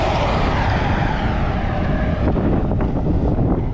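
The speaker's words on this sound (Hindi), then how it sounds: "इतनी तेज़ हवा चल रही है" Strong wind blows against a cyclist crossing the Mongolian desert. It roars and buffets the microphone loudly and steadily throughout, with no one speaking.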